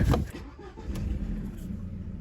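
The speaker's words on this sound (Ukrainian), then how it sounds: "Хочу сісти, попробувати її запустити" Car engine of an Audi A4 B5 being started, a short burst of cranking followed by a low idling rumble, close and moderately loud, alone with no talk.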